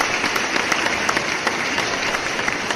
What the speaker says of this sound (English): Let me give you an applause.